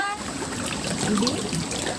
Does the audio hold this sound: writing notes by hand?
no